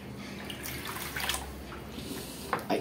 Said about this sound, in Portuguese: Peguei uma coisa com água e coloquei um vaso de barro dentro.